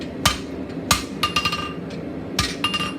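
Hammer blows ring out on hot steel as a taper is blended in for a campfire tool stand, landing in uneven clusters of sharp, bright metallic strikes with short ringing tails, close and clear.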